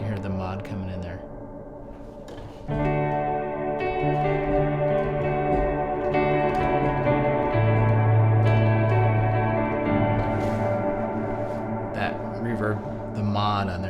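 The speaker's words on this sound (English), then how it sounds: "And then you can hear the mod coming in there." Guitar run through a Strymon BigSky plate reverb with modulation engaged, picked chords swelling into long shimmering tails with a gentle pitch-wavering chorus quality, sustained and dense throughout.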